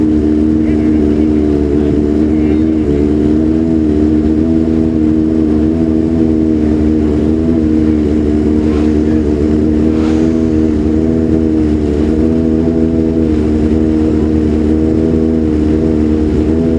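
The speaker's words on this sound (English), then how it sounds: "Bike number 6 coming into view there from the right is the 750 Kawasaki" A 750 Kawasaki racing motorcycle at the Classic TT gives a loud, steady, droning engine note that holds throughout, with a voice talking over it.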